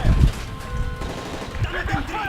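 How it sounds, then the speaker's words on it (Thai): Gunfire in Call of Duty Modern Warfare 3, with sharp bursts and thuds at the start and scattered later hits over a busy game-sound bed. "เสียงปืน มีการยิงเกิดขึ้น"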